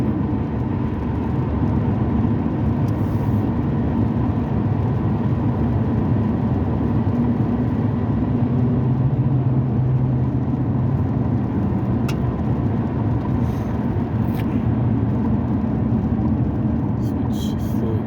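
A car driving in slowing rush-hour highway traffic on Route 93 North near an exit, heard from inside as a loud, steady engine and road rumble throughout with no clear breaks.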